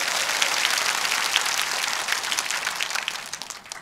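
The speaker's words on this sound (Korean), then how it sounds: "이분들에 대해서 큰 박수 한번 해주시기 바랍니다" A large crowd gives sustained applause at a gathering, a dense roar of clapping that stays even and loud before thinning slightly toward the end.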